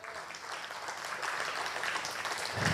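An audience at a healing summit in 2023 breaks into continuous applause that grows slightly louder toward the end.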